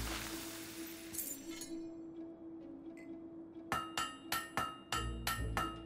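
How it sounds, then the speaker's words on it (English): A blacksmith hammers a sword at a forge in the Fable 3 video game: after a stretch of quiet ambience, about half a dozen sharp metallic clanks ring out in a steady, evenly spaced rhythm, close and fairly loud. "Great hammer work there."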